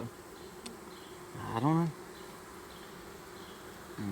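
Honeybees buzz around an open hive during an inspection, a constant low hum under quiet conditions, with a brief louder close buzz and a man's short remark partway through.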